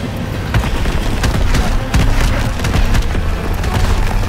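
Dense, continuous battle noise from Call of Duty WWII, with enemy gunfire crackling and thudding under a steady roar during a vehicle chase, loud and close throughout with no pauses.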